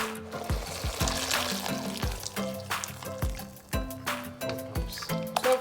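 Water is poured into a simmering pot while cooking fresh lumpia, giving a steady liquid splash and sizzle with repeated sharp clinks and knocks of utensils against the pot.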